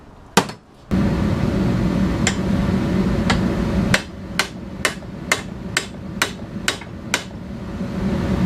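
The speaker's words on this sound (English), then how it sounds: "I'm just hitting this in with the socket as much as I could" A hammer driving a ball joint into a BMW suspension arm with a socket: sharp metallic strikes, one early, then a series of evenly paced blows, over a steady background hum.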